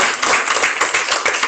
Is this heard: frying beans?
no